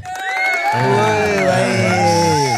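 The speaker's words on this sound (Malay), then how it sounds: "Tepuk tangan ada." A podcast crowd whoops and cheers with rising shouted voices, loud and close, a burst of excited hollering filling the short moment.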